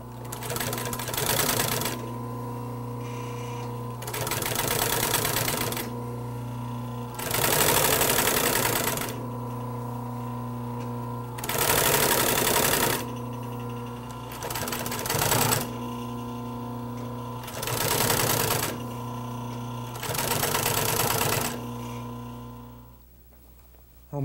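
An upholstery sewing machine stitches a camel back sofa cushion deck in loud, rapid mechanical bursts of about two seconds each, separated by a lower steady motor hum.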